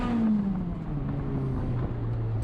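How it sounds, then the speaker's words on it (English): Race car in a touring car championship race dropping gears hard into a heavy braking zone, engine note stepping down in pitch with a steady loud drone throughout, close and alone. "Pretty aggressive downshift"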